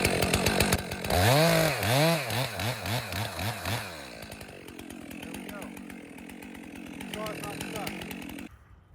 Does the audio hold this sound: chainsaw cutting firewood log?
yes